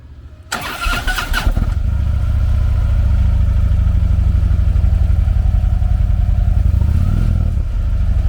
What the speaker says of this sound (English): powered by a 103 cubic inch V-twin motor